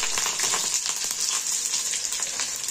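Green chilies dropped into hot oil already popping with mustard seeds and cumin give a loud, dense, continuous crackling sizzle close up, alone without any talk.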